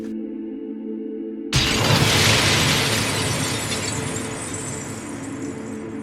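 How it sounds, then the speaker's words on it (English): A plate slips from a hand while being put into a cupboard and smashes, with a sudden loud crash followed by a long, noisy wash of breaking fragments that slowly fades. "one of the plates slipped out of my hand and it went crash, smash"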